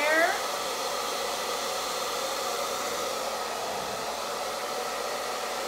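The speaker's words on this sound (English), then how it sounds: "Using my cool shot button right now, directing that heat straight down on my hair." A handheld hair dryer on its cool shot setting blows a steady, loud airy whoosh close by with no break, after a brief higher whine right at the start.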